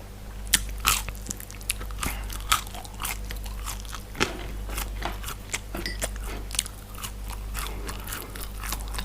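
Pizza fries are bitten and chewed right at the mouth in a close eating session, giving repeated crisp bites and wet crunchy chewing over a steady low background hum, with no talking.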